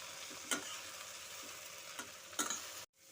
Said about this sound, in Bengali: লবণ, হলুদ, টমেটো, রসুন সমস্ত কিছুর সাথে ভালো মতো করে আমি এখন কষে নেব।